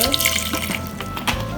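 Water splashes from a kitchen tap in a short, steady gush while plum jam is being made, with a small clink near the end.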